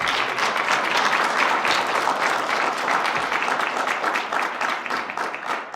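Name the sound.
audience applause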